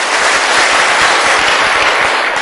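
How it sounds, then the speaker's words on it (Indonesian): Dense, loud applause from a large audience, steady and unbroken throughout without any talk. "tepuk tangan bener-bener ya"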